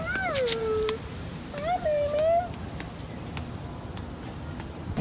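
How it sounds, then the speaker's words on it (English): A thin, skinny stray cat in the El Yunque rainforest of Puerto Rico gives two drawn-out meows close by, then falls quiet over a steady hiss of insects and forest ambience. "Oh shit, it's a cat."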